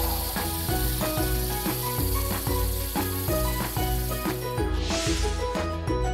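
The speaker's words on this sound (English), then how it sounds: "What shall we do first? Spray paint?" A cartoon spray-paint can hisses steadily over busy rhythmic background music and ends in a brief stronger burst near the end.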